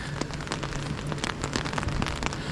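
Steady rain patters on an umbrella or canvas during a walk along the Roman city walls of Chester, a dense, even spatter of drips that carries on without a break and without any talking.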